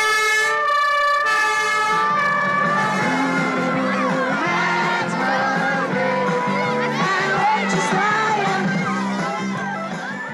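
A fire engine in Dieze, Netherlands, drives past during a Sinterklaas visit with its siren wailing loudly in steady, harmonic rising and falling tones, fading slightly toward the end over road rumble.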